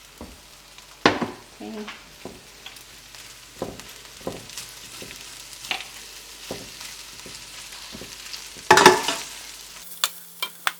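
Meat sauce goes into a pot of Afghan Qaboli palao with a soft sizzle, then scattered stirring knocks and scrapes follow, with one louder clattering burst near the end and a brief spoken word early on.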